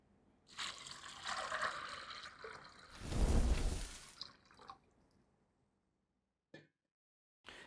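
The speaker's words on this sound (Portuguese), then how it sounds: "E agora eu vou colocar uma água nova." Fresh water is poured into a pot of beans seasoned with bay leaves, bound for a pressure cooker: a steady, close splashing pour swells to a louder gush, tapers off, then ends with a couple of faint drips or clinks.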